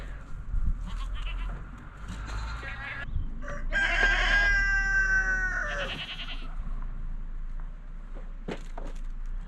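Thirteen newly weaned baby goats bleat and call repeatedly at close range, overlapping cries rising over steady outdoor background noise on a farm, with a rooster-like crow mixed in.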